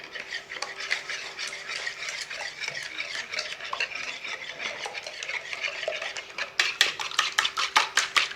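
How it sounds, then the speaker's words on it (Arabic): Four eggs and oil are beaten together in a bowl, producing a steady run of close, rapid scraping and tapping strokes. The strokes turn sharper and more rhythmic toward the end, with no voices. "كنحاولوا نطابوا هذا البيض مع نص كاس ديال الزيت باش ينسجموا لينا"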